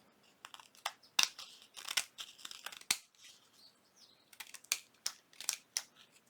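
Scissors snip and chew through paper while trimming a junk journal corner pocket, a series of close, sharp cutting crunches in irregular bursts with brief pauses between.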